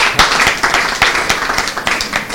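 An audience claps for a president at a traditional music group's event, in close, loud, rhythmic claps that come in quick regular beats with a background crowd murmur.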